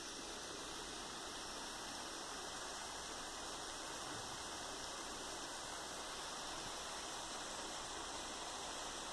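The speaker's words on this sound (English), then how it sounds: "Trying to let you get a little bit of the sounds, get the idea of how massively wonderful a waterfall can be" Waterfall in a park in Granby, Connecticut, a steady, unbroken rush of falling water with a broad hiss, constant and even throughout with no voices.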